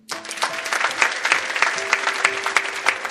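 A church congregation breaks into lively applause, dense clapping rising quickly and holding steady, with faint voices mixed in.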